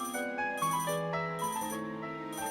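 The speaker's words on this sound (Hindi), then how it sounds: "किसका फोन आ गया सुबह सुबह?" A telephone rings with a melodic electronic ringtone on a quiet morning at home, its tuned phrases repeating at a steady, close level with no one talking.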